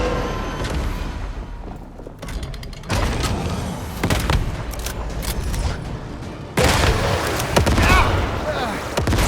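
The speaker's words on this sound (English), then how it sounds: "I think he has a rocket launcher now." A dungeon boss in the game Once Human fires a rocket launcher, loud blasts and explosive booms striking in heavy bursts with a big surge near the end, while a voice talks over the action.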